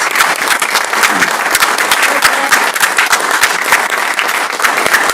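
Sustained applause from an audience honoring candidates at a Pittsburg Chamber candidate forum, many hands clapping densely and evenly for the whole stretch with no voices over it.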